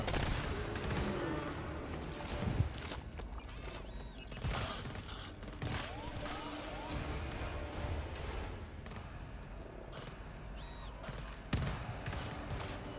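Sustained rifle gunfire in the co-op shooter game GTFO, sharp shots cracking in irregular bursts over dense, continuous combat noise, with a few louder reports standing out.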